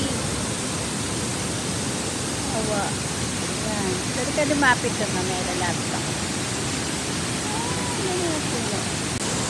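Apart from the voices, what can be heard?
waterfall with strong rushing water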